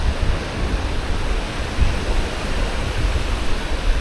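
Sea waves at Canasvieiras beach on a slightly rough morning, a continuous broadband roar of surf washing in close and loud, steady with no voices.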